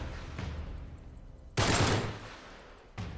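Gunshots in Uncharted 3: Drake's Deception on PS4: a sharp, loud burst of rounds rings out near the middle, with another short crack at the end and quieter game ambience between them.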